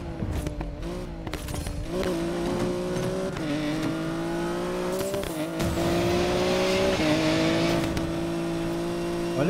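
Race cars in the Need for Speed Payback video game accelerate and rev loudly, engine notes climbing and shifting through gears with a brief tire squeal, close and continuous with no talking.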